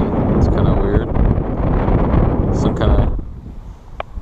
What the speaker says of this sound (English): I'm sure that's pretty windy, huh?